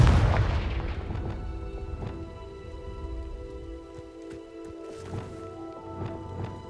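Confringo explosive spell blast in the Hogwarts Legacy video game on PC: a deep, heavy boom opens the moment, then fades under ringing tonal game music and scattered crackles.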